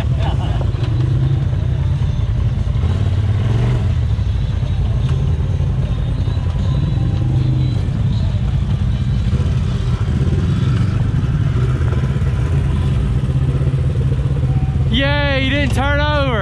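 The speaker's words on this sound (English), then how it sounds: "Put it in high and gas it." Off-road vehicle engine on a rocky trail running loud and close with steady rumbling and clatter, ending with a rising, wavering whine near the end.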